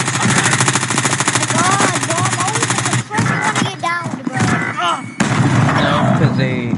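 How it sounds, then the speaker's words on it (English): Rapid automatic gunfire from the Warzone video game rattles loudly and almost continuously, with brief pauses between bursts and a player's voice faintly underneath. "I am under fire."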